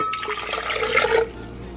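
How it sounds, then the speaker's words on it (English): Water splashes and gurgles as it is poured in a short, steady stream onto chiles and onion for salsa, then cuts off and leaves a faint trickle. "so for my salsa, I'm just going to add my water,"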